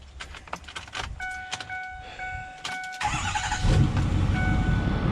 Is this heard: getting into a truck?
yes